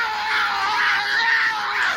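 A man screams in a horror movie, a driver letting out a distinct, sustained cry at roadside, loud and continuous for about two seconds with a strained, wavering pitch.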